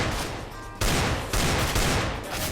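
A Desert Eagle pistol fires rapidly in a video game, loud shots landing in quick bursts that sound almost like automatic fire, dense and close with no talk.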